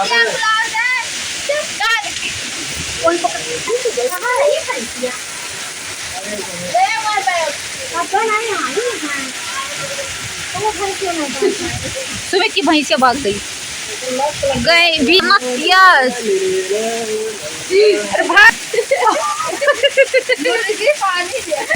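A violent storm sweeps over open farmland in rural India, where heavy rain driven by strong gusting wind roars and splashes steadily throughout while several people talk and shout loudly over it nearby.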